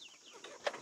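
Chickens on a rural Vietnamese family farm give a few short, soft clucks, with one brief louder call near the end, at a moderate distance.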